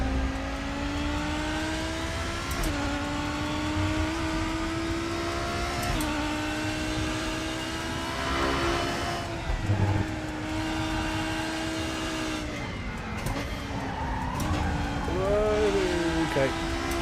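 A race car's engine revs and drones continuously in the RaceRoom sim racing game, pitch rising and dipping through gear shifts and throttle lifts, loud and steady with a voice speaking over it.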